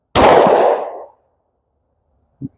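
A single loud 10mm shot from a CCI Blazer aluminum-case round fired at a target, a sharp blast with a decaying tail of about a second, then a faint brief knock moments later.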